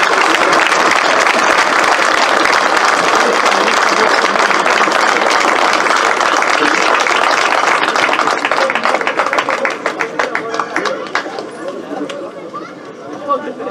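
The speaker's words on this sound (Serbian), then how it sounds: "Pozdravimo ih jednim velikim aplauzom" A large crowd at an outdoor political rally in Šipovo gives a long, dense round of applause that thins and fades toward the end, with scattered clapping and cheering remaining.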